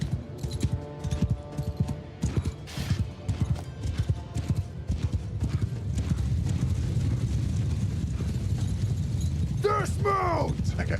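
Massed horse hooves clatter in a medieval Bannerlord battle as knights ride, a dense, continuous clip-clop under shouting and game noise, with horses whinnying near the end.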